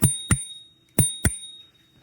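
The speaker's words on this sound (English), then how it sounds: "The bell is a lot different." A Gotrax G4 electric scooter's bell rings in two pairs of quick, bright dings, each strike trailing off in a short metallic ring, loud and close with nothing else around it.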